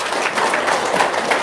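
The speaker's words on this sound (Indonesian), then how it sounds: "Tepuk tangan dulu dong." A room full of people clapping together, a steady, dense wash of applause that holds at even loudness throughout, with no voices rising above it.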